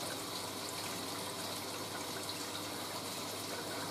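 A vintage 1970s Hoover A3060 washing machine fills with water, a steady, close, broadband rush of incoming water without pause or change for the whole stretch.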